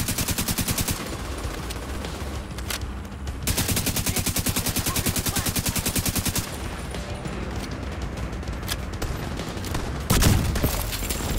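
Heavy automatic gunfire in The Division 2, with loud, rapid bursts of shots firing almost continuously and a sharper blast near the end, with no talking.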